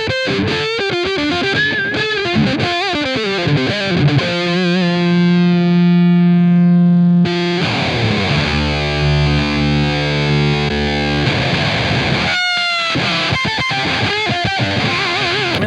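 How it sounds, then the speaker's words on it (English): Distorted electric guitar with thick fuzz played through a tube amp, chords and sustained notes ringing out loud and saturated, one long held chord, then more strummed fuzzy riffs. "listen to that fuzz"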